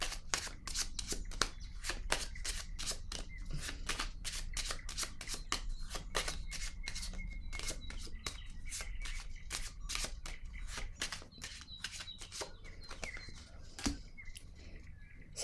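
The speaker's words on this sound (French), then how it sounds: "Attendez une minute, je vais déposer une autre carte ici." Tarot-style cards are shuffled and laid down for a reading, with crisp rapid card flicks and snaps repeating steadily throughout, close and clear with no talking.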